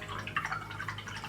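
Clean water trickles and drips steadily in a close, quiet rinse, with soft continuous splashing and a few brief louder drips, no voices.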